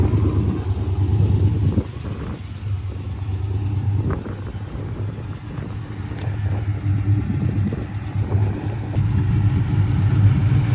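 A 6.1 Hemi V8 engine, cammed, with long-tube headers, idles with a deep, lumpy rumble, the low throb pulsing unevenly and swelling slightly at moments, heard alone without talk.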